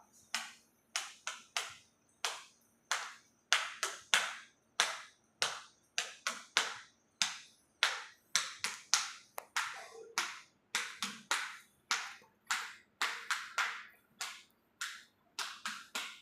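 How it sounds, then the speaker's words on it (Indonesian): Bare feet stomp on a ceramic tile floor in a class practising poetry recitation, giving sharp slapping hits in rhythmic groups of four and one, close and crisp, with no talk over them. "Ini kenapa bunyinya keteplek-keteplek? Karena kan kakinya dengan keramik."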